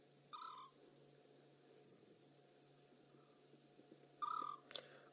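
A recorded call of a scops owl: two short, soft whistled hoots several seconds apart over a steady chorus of crickets at night.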